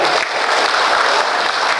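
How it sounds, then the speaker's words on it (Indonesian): Dense, steady audience applause fills a regional government assembly hall in South Lampung, sustained and close throughout a brief stretch without voices. "Tepuk tangan."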